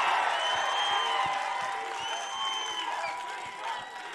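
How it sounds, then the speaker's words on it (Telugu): A large crowd at an outdoor Congress rally in Parigi claps and cheers, with dense continuous applause and scattered whoops filling the space in front of the stage. "మీరందరూ గట్టిగా చప్పట్లతోని పెద్దలు డికే శివకుమార్ గారికి స్వాగతం పలకాలి"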